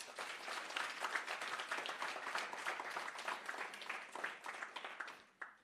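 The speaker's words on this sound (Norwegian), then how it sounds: "Jeg synes det fortjener en applaus." Crowd applauding at an outdoor Pride event, dense sustained clapping from many people that swells, then fades and stops abruptly near the end.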